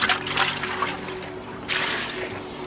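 Water is poured into a bucket from close by, a steady splashing trickle with a short pause and a second pour, while a deck project and Dutch oven cooking go on outdoors.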